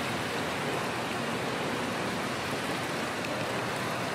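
Water pours steadily and loudly into a container to fill a homemade barbell, a continuous close rushing splash with no talking.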